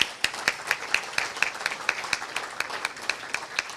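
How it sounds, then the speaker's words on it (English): At a Rotary club meeting, a small group claps with steady, distinct hand claps, a sparse and rhythmic patter that stays fairly quiet and carries no speech. "Let's give him a round of applause."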